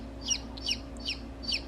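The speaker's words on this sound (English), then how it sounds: "I wonder if this is going to be our new rooster." A young copper Marans cross rooster clucks in four short, evenly spaced bursts, close and moderately loud over a steady low background hum.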